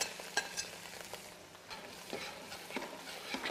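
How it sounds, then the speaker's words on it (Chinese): Minced scallion, ginger and garlic stir-fried in a wok for fish-fragrant prawns, with a steady sizzle under soft scraping spatula strokes, close and alone. "轻轻煸炒"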